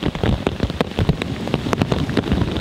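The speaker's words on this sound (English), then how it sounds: "This is only about 3 minutes of rain or soaked to the bone." Heavy rain pours during a spring turkey hunt in a field, a dense, loud hiss of drops pattering close on gear and ground, broken by sharp spattering bursts throughout.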